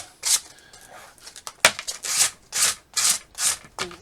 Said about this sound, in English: I'm just going to scuff up the back of the leather